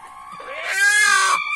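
A rooster crows once, close and loud, in a single drawn-out strained call that rises and then breaks off.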